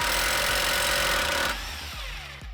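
A loud, continuous mechanical hammering buzz of an impact wrench loosening a Toyota Supra axle nut runs for about a second and a half, then cuts off, leaving a few clanks and rattles.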